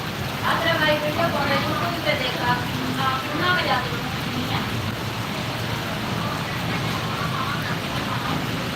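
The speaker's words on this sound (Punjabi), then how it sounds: "ਪੂਰਾ 1 ਘੰਟਾ 20 ਮਿੰਟਾਂ ਤੋਂ ਮੀਂਹ ਪੈ ਰਿਹਾ" Steady, heavy rain pours down in a dense wash of noise, with a voice talking over it now and then.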